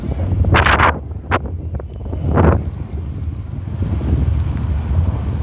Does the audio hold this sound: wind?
yes